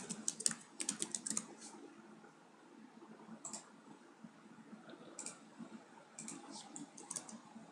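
Soft, quick keystrokes on a computer keyboard, typed in short irregular clusters with pauses between, close and fairly quiet.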